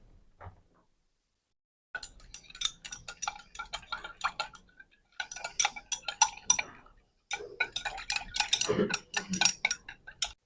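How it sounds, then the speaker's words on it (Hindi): A glass rod stirs dilute sulphuric acid solution in lab glassware, making light, rapid clinks and taps in irregular bursts, close and fairly quiet, with short pauses between rounds of stirring. "अब इसको ग्लास रॉड से मिक्स कर लेंगे ताकि ये बिल्कुल ट्रांसपेरेंट सा हो जाए"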